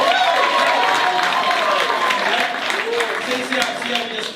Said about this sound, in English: Clapping hard as hell.